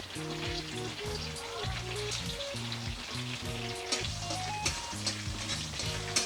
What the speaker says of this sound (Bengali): এবার পটল ভাজার তেলের মধ্যেই আমি শুকনো লঙ্কা, তেজপাতা, কাঁচা লঙ্কা, কালো জিরে আর মেথি ফোড়ন দিয়ে দেবো।